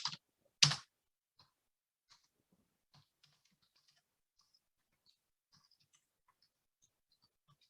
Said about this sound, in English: I'm having a hard time typing a simple sentence.